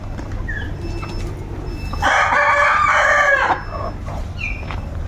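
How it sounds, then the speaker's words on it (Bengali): A desi rooster crows loudly and close among laying hens in a poultry house, with soft clucking and other bird calls before and after the crow. "তো মুরগিগুলো ঘোরাফেরা করতেছে"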